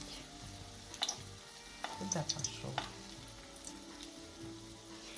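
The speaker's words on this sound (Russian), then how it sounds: "Будем жарить." Chicken patties sizzle steadily in a frying pan, with a few soft clinks and scrapes and a brief voice speaking near the start.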